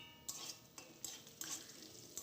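Cabbage and potato being stirred in a pan with cumin seeds, a spoon scraping and knocking against the metal in short repeated strokes over a soft frying hiss, quiet and close.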